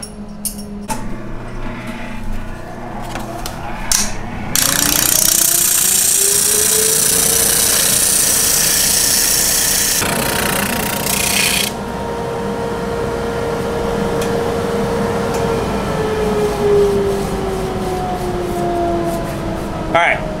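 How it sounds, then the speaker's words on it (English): A spindle sander in a guitar workshop whirs up with a rising motor tone, runs loudly with a steady hum and grinding hiss for several seconds, then winds down, while a person talks over it. "we switch over to the spindle sander"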